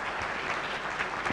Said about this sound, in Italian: quindi un altro applauso per i nostri amici